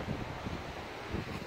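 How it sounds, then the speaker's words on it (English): Steady wind buffeting the microphone outdoors at Gretna Green, a dull continuous rumble with gusty low thumps and no voices. "It's very windy"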